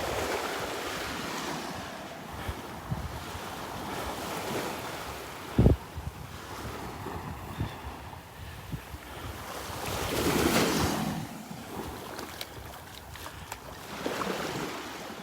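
Waves rolling onto the beach at Delnor-Wiggins on a morning walk, a steady close wash of surf with gusts of wind buffeting the microphone and a swell of breaking water midway.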